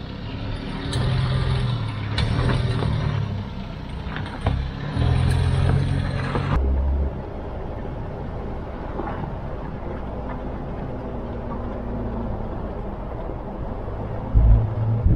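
A vehicle rolls along a fine sandy dirt road with exposed rocks on the Outlaw Trail, giving a steady engine rumble with low thumps and rattles over the bumps, loud and close, easing slightly partway through, with no voices.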